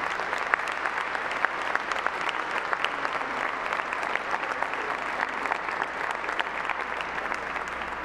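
Applause from a church congregation in memory of a deceased priest during Mass, a steady dense wash of many hands clapping that holds at an even level for the whole stretch.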